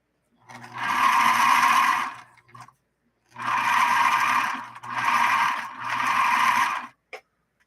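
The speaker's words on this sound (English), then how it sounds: "So a zigzag first and then a straight stitch after that." A Bernina Minimatic 707 sewing machine stitching a zigzag runs in steady, loud bursts, first a long run, then a brief pause, then two more runs back to back, with a small click near the end.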